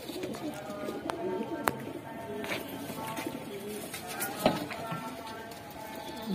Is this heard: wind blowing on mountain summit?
no